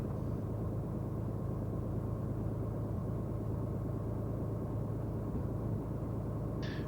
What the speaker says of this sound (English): Bonanza 46 Foxtrot's clearing 13 on Delta 2, taxiing to Hangar 9